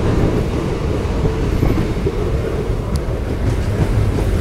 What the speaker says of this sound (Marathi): आपण या ट्रेनमध्ये प्रवास करतोय